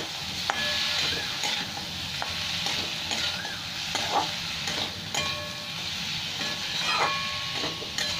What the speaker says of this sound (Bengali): এই সবজিগুলো কষতে কষতে আমার টমেটোও গলে যাবে ভালো করে, মশলাও ভাজা হয়ে যাবে